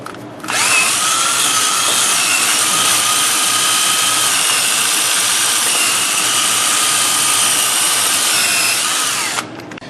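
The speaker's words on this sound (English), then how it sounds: "get your wire wheel in there, clean this up" A power-driven wire wheel scrubs the wheel hub of a 2003 GMC Jimmy, a loud, steady, harsh whir that starts abruptly, holds evenly for about nine seconds, then cuts off.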